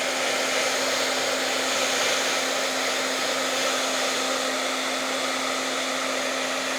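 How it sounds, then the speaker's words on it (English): A hair dryer blows on waxed cotton fabric, a continuous, even whooshing hum with a steady motor whine, close and unbroken throughout. "So I'm using this hair dryer and letting that soak in."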